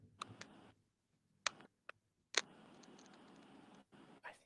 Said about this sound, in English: We can actually hear you typing.